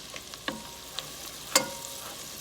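Vegetables for broccoli cheese soup sautéing in a pan, a quiet low sizzle broken by a few sharp clicks and taps of a utensil against the pan.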